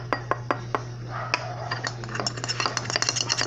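Slime being stirred in a container right after a little pink activator is added, giving a run of close, sharp clicks and taps against the sides over a steady low hum, with no talking.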